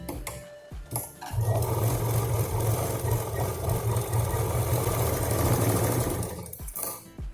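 An electric sewing machine runs a continuous line of stitching through sponge and cloth lining for a handmade handbag. It hums close and steady for about five seconds, with short pauses and faint handling noises at each end.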